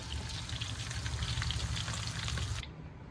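Fish frying in hot oil gives a dense, steady crackling sizzle close by. It holds evenly for a few seconds, then cuts off abruptly.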